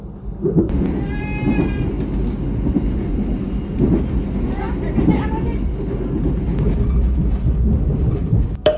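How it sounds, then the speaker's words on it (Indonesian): The Mataram passenger train rumbles and rolls into Cirebon station loudly with a steady low roar, a brief high squeal of brakes and clatter, under a busy station-like background. "Kereta Mataram tiba di Cirebon dengan catatan kedatangan 4 menit lebih awal."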